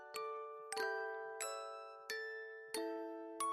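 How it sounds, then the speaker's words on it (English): Clock tower chimes ringing out, six clear bell strikes in an even rhythm about two-thirds of a second apart, each with a long ringing decay, alone and fairly close. "the chimes of the clock tower carried on"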